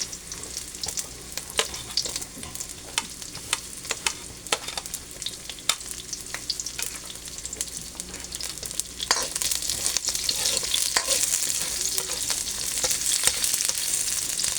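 Onions sizzle steadily in a pan for a Filipino vegetable coconut-milk dish with garlic, a constant close crackle with intermittent stirring clicks that grows louder and denser toward the end.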